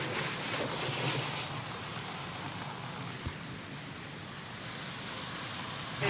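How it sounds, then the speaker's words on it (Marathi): Heavy rain pours down in Pune as a dense, steady hiss that keeps an even level throughout, broken once by a faint dull thud. "पावसाची दमदार बॅटिंग सुरू आहे."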